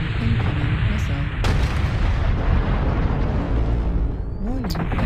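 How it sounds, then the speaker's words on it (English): A barrage of explosions and booming impacts from incoming missiles in MechWarrior Online, loud and continuous with a sharp burst near the start, overlaid by a synthetic warning voice near the end. "Warning incoming missile"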